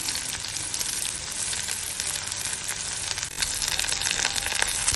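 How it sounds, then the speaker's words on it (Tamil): About ten small onions sauté in hot oil for murungai kai kootu, giving a dense, steady, close sizzle that grows slightly louder toward the end, with no speech. "வெங்காயம் வதங்கும்போது நம்ம கொஞ்சமாக கடவுள் சேர்த்துக்கலாம்"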